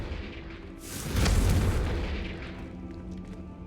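Confringo fire spell blasting in Hogwarts Legacy, a single deep, loud boom that swells after about a second and then rolls off slowly with a rumbling tail.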